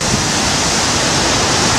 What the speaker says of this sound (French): tandis qu'ils affrontent la violence des vagues qui s'abattent contre eux